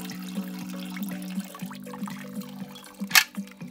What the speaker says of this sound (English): I decided to clean it with the water